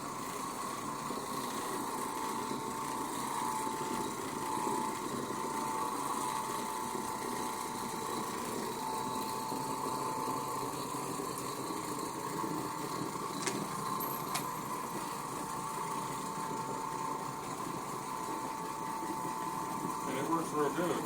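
An Oreck Orbiter floor cleaning machine runs with a steady, continuous motor hum and whir throughout, loud and close, with a brief faint click near the middle and no talking.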